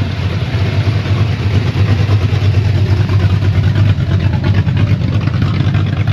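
Car engine idling at a busy car meet, a loud, steady, close-up rumble that holds an even throbbing tone throughout with no other sound over it.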